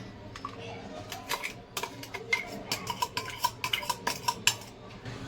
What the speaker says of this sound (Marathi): हा जो बीटचं जी मी प्युरी बनवून घेतलेली आहे ती ह्या पातेल्यामध्ये काढून घ्यायची आहे